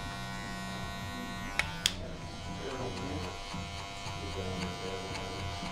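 An electric foil shaver buzzes close and steady while cutting hair very short, with two sharp clicks early on and the motor's pitch wavering slightly as it moves over the head.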